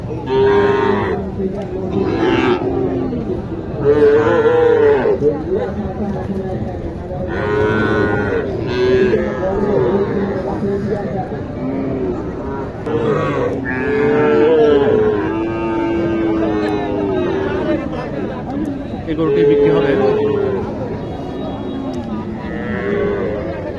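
Sahiwal and other improved-breed cattle moo repeatedly at Mataji cattle market in Naogaon district, long deep calls overlapping one another amid a busy outdoor crowd, loud and close.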